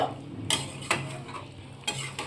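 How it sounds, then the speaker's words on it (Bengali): A utensil stirs chicken jhol with garam masala in a pan, giving a few sharp scraping clinks at irregular intervals over a faint low sizzle. "গরম মশলা দেওয়ার পর চিকেনটা একটু আমি নাড়াচাড়া করে নেব"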